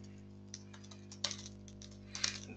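Typing on a computer keyboard in a quiet office, soft rapid key taps with two louder bursts of clacking over a steady low electrical hum.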